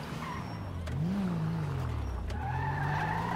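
A car in GTA 5 skids with steady tire squeal over a sustained engine drone, fairly close and continuous for a few seconds, rising in pitch partway through; no one speaks.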